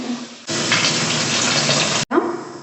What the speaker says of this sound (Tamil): கொஞ்சம் தண்ணி ஊற்றி